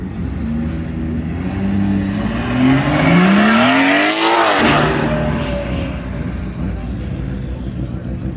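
At a car meet, a motorcycle engine revs hard during a burnout, its pitch climbing loudly to a peak then dropping away as it passes, with crowd voices talking underneath.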